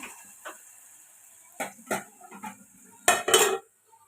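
Boiled potatoes with peas are mashed in a metal pot, giving sporadic clinks and scrapes of utensil on metal, a few short clusters of knocks, fairly close and quiet, with no talking.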